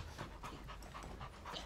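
Dogs pant rapidly and close by, a steady rhythmic breathy huffing that fills the whole moment indoors, with no speech over it.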